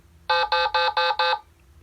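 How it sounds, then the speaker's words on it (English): A Bigtrak programmable toy vehicle gives five short, evenly spaced electronic beeps in quick succession, clear and close, then falls quiet. "Nice beeping just on time there."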